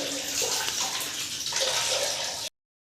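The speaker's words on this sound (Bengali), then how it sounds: "এই যে হাজবেন্ড মাংসটা ধুচ্ছে" Tap water runs steadily over fresh meat being washed in a home kitchen, a continuous close splashing and gurgling stream with shifting tone as the pieces are handled.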